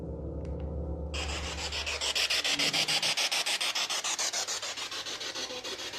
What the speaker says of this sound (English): The next device we're going to set up is a spirit box.